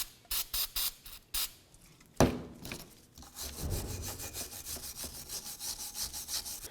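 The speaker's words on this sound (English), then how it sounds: "I'm going to spray it down with some brake parts cleaner and then get it with a wire brush" Brake parts cleaner sprays in several short hisses, then a wire brush scrubs steadily with rapid rhythmic strokes on the front brake brackets of a 2005–2016 Toyota RAV4, close and moderately loud with no talking.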